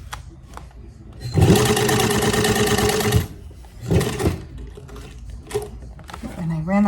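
A sewing machine stitches a mushroom onto a leather cuff, its rapid needle chatter running for about two seconds, then a shorter run, close and loud, with someone talking around it.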